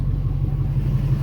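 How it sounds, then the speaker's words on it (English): Duramax LMM diesel engine held in reduced engine power, floored but unable to rev, giving a loud, steady low rumble that stays flat and never climbs. "you can hear it doesn't rev. That's like pinning it to the floor."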